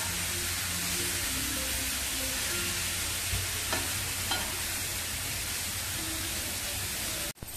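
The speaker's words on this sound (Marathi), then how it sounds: "हा लाल भोपळा किसलेला ह्याच्यावरती टाकूया। आणि चांगलं हलवून घेऊया।" Grated red pumpkin hits hot ghee in a pan and is stirred, giving a dense, continuous hiss and scrape with faint knocks, ending in a sudden clatter; no one speaks.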